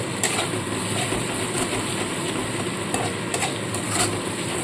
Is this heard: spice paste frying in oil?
yes